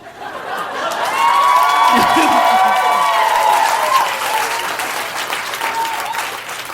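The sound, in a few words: applause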